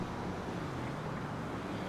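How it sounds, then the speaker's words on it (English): Steady broadband hum of car traffic in the video game Grand Theft Auto V, heard from beneath a highway slip road, sounding as a continuous distant wash of engines and tyres with no talking. "The thing is, I can hear so many cars,"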